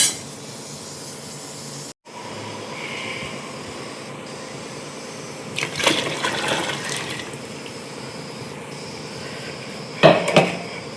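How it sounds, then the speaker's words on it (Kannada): Water poured into a cooking pot for an egg and chicken curry, heard as a short splashing pour midway and another brief burst near the end over a steady low background hiss, with no voices. "ಇನ್ನೂ ಕೂಡ ಒಂದು ಲೀಟ್ರ್ ಮೇಲೆ ನೀರನ್ನು ಹಾಕಬೇಕು"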